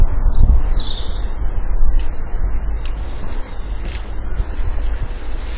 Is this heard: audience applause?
no